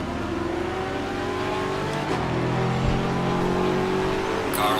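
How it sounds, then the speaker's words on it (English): Engines of a thirty-car field in a sim racing game roar together as the green light drops, a steady dense drone of revving motors climbing in pitch, loud and continuous with no voices. "We've got 30 cars on track."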